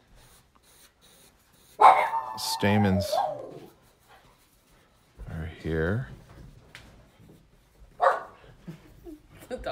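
Dogs bark and yip in a few short bursts at close range, mixed in with people talking.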